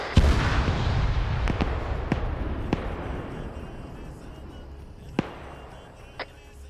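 A BTR armored vehicle is destroyed in a video game with a heavy opening blast, followed by a string of sharp distant booms and cracks spaced a second or so apart that fade over several seconds.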